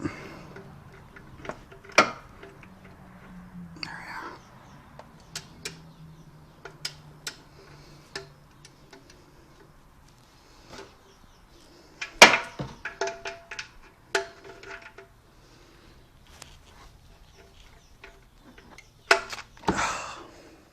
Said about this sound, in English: Put the torque wrench on it.